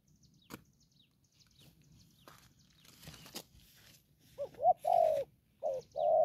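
A young dove of the đồng pha type gives several low, rounded coos near the end, close and clear after quiet stretches broken by faint clicks and rustles.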